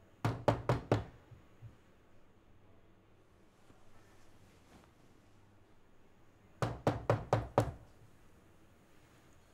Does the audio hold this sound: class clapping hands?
no